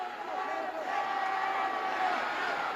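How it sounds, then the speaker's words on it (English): A packed arena crowd at a televised Houston pro wrestling show roars in a steady, sustained swell of cheering and chanting, with a commentator talking over it. "Just listen to that roar there as they scream yellow, yellow, yellow."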